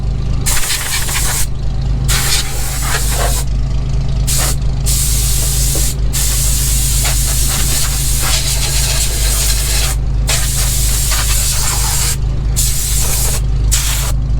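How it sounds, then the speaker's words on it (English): A large air compressor feeds a blower that cleans out a Mack B-21 truck, giving a loud, close, steady hiss broken by brief pauses, with no talk. "So this might be a very big and expensive air compressor, but I'll tell you what, this thing works great."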